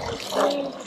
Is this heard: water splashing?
yes